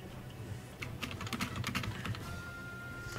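Rapid typing on a computer keyboard, with steady clusters of close, crisp key clicks that run throughout over a faint room hum.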